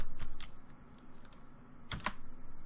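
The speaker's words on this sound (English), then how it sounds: "you can just type in a keyword like sheet and then .new" Keys clacking on a computer keyboard while entering a short search keyword, a few quick taps at the start and a tight cluster of louder keystrokes near the end, close and clear over quiet room tone.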